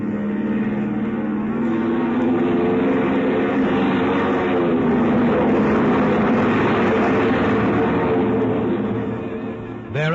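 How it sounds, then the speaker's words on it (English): A propeller airplane's engines rev up, then the plane rushes down a runway on takeoff, a loud, steady drone that holds throughout and cuts off abruptly at the end. "The pilot guns the engines for a few seconds, and then the plane rushes down the runway towards you."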